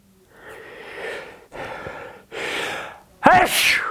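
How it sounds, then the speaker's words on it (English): A person sneezes a single time after a few sharp, gasping in-breaths, the sneeze bursting out loud and close at the end. "I think I'm gonna sneeze."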